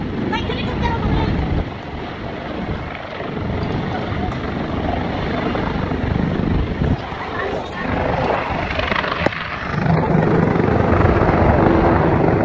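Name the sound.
helicopter flying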